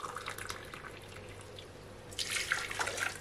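Hot water is poured out for a syrup, a soft trickling and splashing stream that swells louder toward the end, heard close with no talk.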